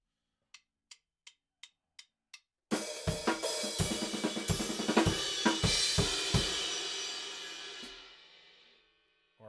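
Six soft metronome clicks count in, then a drum kit plays a slow pattern of kick, snare and cymbal hits that rings out at the end.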